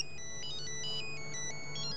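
An electronic ringtone trills steadily for a couple of seconds, a bright, repeating melodic phone ring with nothing else over it.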